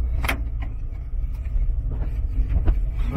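A 1984 Volkswagen Vanagon GL Westfalia camper pulls away, its engine a low steady rumble from inside the cabin with a few brief clicks and knocks from the controls.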